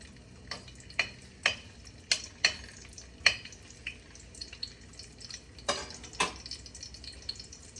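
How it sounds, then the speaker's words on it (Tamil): Garlic goes into a hot pan for a Tamil-style papaya (pappa kaai) stir-fry alongside chopped prawns. The result is a soft, steady background sizzle broken by sharp clicks and taps of a utensil against the pan, with no talking. "இப்போ கொஞ்சம் பூண்டு போட்டுக்கொள்கிறேன்"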